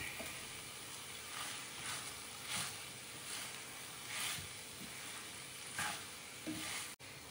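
Hakka noodles and vegetables sizzle softly in a pan while being stirred, with a faint continuous frying hiss and regular scraping strokes from the spatula, heard up close with no voices.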